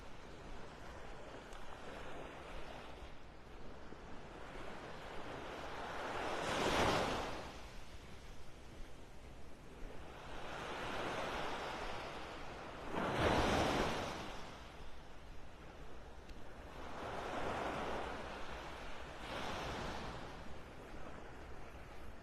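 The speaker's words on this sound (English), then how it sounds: "Still got a little serotonin with these little waves lapping on the shore." Small ocean waves lap gently on a beach shore in North Naples, Florida, in a steady wash of surf with soft swells breaking every few seconds under light wind.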